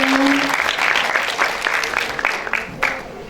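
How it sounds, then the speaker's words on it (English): A group claps once more for a prize winner at a negotiation event. A voice opens briefly, then a spread of hand claps follows that gradually thins out into a few sharper, separate claps near the end. "give applause once again for our winner"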